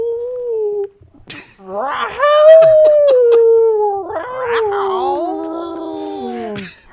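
A voice imitates the roar of a giant orange cat steed in a tabletop fantasy game, giving a long, wavering, howl-like wail with a rising and falling pitch that comes twice across about seven seconds, loud and close.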